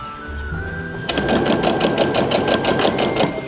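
A sewing machine runs up fast to stitch a dress seam after a quiet pause, its needle hammering out a rapid, even rhythm, loud and close.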